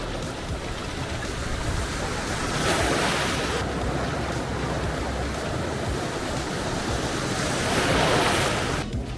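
Ocean surf washing onto the beach at Assinie, Ivory Coast, a steady broadband roar with two swelling wave surges, mixed with wind buffeting the microphone and no voices.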